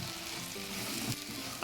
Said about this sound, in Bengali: এবার এর মধ্যে ইঁচড়গুলো দিয়ে দিচ্ছি।